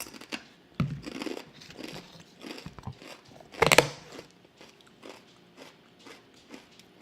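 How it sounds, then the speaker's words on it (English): Crunchy chewing and biting close to the mic, irregular bursts with one loud crunch midway, no talking. "Trigger warning, chewing noises."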